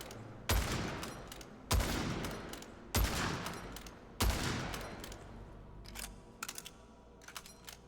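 Lever action rifle fired in the video game Witchfire: four loud, evenly spaced shots, each with a long ringing tail, followed by quieter mechanical clicks and clacks, with no talk.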